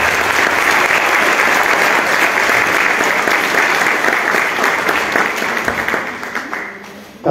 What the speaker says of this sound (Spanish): El aplauso.